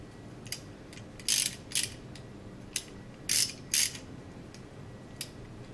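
A torque wrench ratchets as it is turned, giving a series of quiet, crisp clicks in small clusters with short pauses between, close up and with no one talking.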